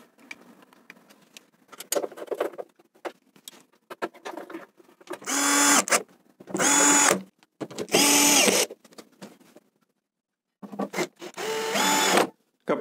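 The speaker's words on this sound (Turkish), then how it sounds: "Sonra üstteki vidaları sıkıştırabiliriz." A cordless screwdriver tightens the upper screws on a combi boiler's burner cover, giving several short loud whirring bursts between quieter handling clicks and rustles, close up and with no talking.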